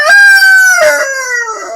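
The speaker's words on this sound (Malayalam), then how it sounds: "കോഴിക്ക് നേരം വെളുത്തതേ ഉള്ളൂ," A rooster crows once, close and loud, a drawn-out harmonic call that falls in pitch and trails off over nearly two seconds, heard alone in a home garden.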